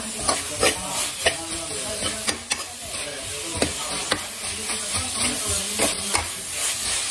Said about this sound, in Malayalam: സവാള നന്നായിട്ട് വഴണ്ടുണ്ട്.